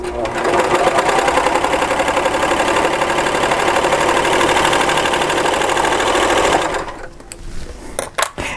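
A Baby Lock Celebrate sewing machine stitches quilt pieces in a fast, steady, loud whir that runs for about seven seconds, then stops, leaving a few faint clicks and handling sounds.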